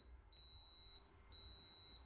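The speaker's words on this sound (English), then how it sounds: "It's gonna beep a few times and it's gonna set everything back to 0 again, including the time." A digital coffee scale resets with two long, steady electronic beeps separated by a short pause, clear and close in a quiet room.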